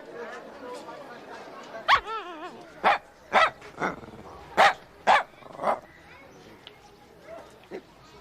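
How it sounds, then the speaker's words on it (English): A Lhasa Apso barks in short, sharp yaps and yips, about eight separate barks spaced unevenly and heard up close. Voices talk quietly underneath. "Isn't this, what do you call it? Lhasa Apso?"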